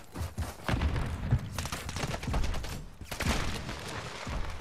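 Rapid bursts of grenade explosions and gunfire in a shooter video game, dense overlapping booms and cracks filling the whole stretch at steady loudness with no pauses.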